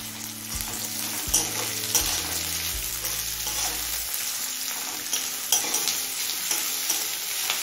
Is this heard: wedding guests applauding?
no